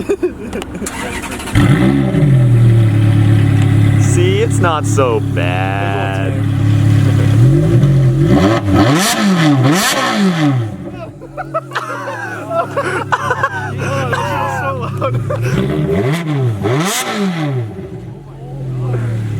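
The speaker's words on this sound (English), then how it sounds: "Fab speed headers, baby. It's one of the prettiest sounding Ferraris." A Ferrari fitted with Fab Speed headers revs loudly up close in repeated rising and falling bursts that sound sharp and raspy, with excited voices talking around it.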